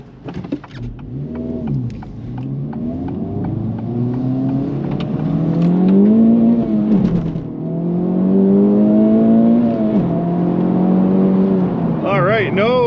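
A 2024 Acura Integra Type S accelerates hard in Sport Plus mode, its engine note rising steadily in pitch through long pulls with a brief dip between gears, loud and continuous from inside the cabin, with a voice speaking over it.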